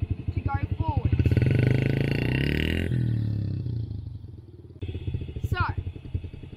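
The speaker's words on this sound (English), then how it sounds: "slowly you twist the throttle back to go forwards" A motorbike pulls away in first gear, its engine chugging in a rapid pulsing beat that rises as the throttle opens, then settles to a lower rumble; a second rise follows, close and fairly loud.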